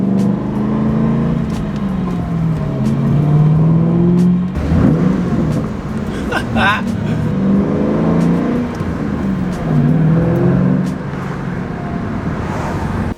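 A 2005-2009 Ford Mustang engine rumbles loudly with a steady low drone, swelling into a sharper rev burst midway and settling back to a throaty idle-like growl.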